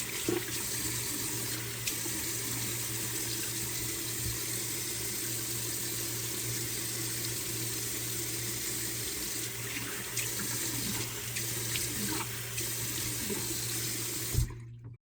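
Lukewarm tap water runs from a bathroom faucet into a sink for face washing, a continuous close hiss and splash that holds steady for about fifteen seconds before stopping abruptly.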